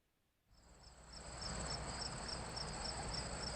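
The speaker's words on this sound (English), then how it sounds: "those cricket noises" Cricket chirping in a video game about Moses' journey to the Promised Land, a steady high, rapid pulsing trill over a low ambient hum, starting after half a second and staying constant to the end with no voices.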